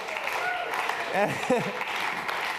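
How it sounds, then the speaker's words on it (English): Audience applause for a production crew at an arts and entertainment industry forum, a steady broadband clatter of clapping with voices and brief speech-like calls rising over it midway. "Give them a round of applause"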